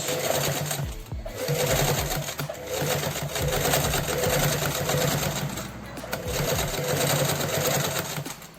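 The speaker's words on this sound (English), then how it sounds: "drop it onto the machine, lower your foot, and start sewing" A sewing machine stitches fabric for a zipper pouch, a steady close mechanical whir running nearly the whole time with brief dips as the work is guided.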